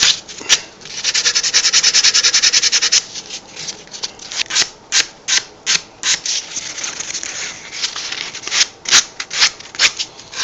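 Hand sanding of filler on a plywood Minecraft sword: a long continuous scrubbing stroke, then a run of brisk, rhythmic back-and-forth rasps, close and loud with no talk.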